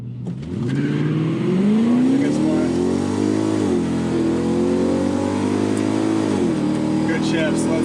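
Infiniti Q45 launching hard down a drag strip, its engine roaring loud and close as revs climb steadily, then dip and rise again at a gear shift, with a voice speaking over the engine.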